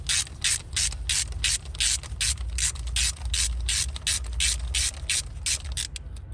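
A ratchet with a spark plug socket clicks rapidly and steadily in a long even run of about twenty close, crisp ratcheting strokes while loosening a spark plug on a 2003–2008 Nissan Maxima, with a low hum underneath.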